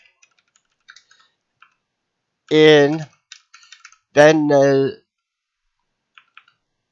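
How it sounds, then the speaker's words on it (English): Sparse clicks of keyboard typing scattered through the clip, with two short bursts of someone speaking in between. "I got to actually watch when I'm typing here"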